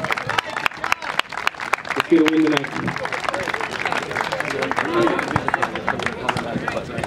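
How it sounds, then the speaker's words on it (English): Senior night crowd at a school sports event gives another round of applause, a steady wash of clapping and cheering in a large gym, with someone speaking briefly over it. "one more round of applause"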